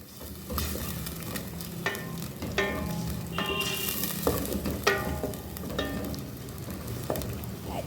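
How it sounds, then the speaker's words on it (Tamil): Tomato and curd sautéing in hot oil for thakkadi, a steady soft sizzle with scraping stirs of a spoon in the pan at irregular intervals, close up with no talking. "இதையும் நாங்கள் வதங்க விடுவோம்."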